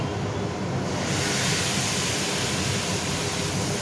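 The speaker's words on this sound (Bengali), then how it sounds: "এবার এতে জল দিয়ে দেবো।" Water pours steadily into a cooking pot, a loud, continuous broadband rush lasting a few seconds with no pause, close by and alone.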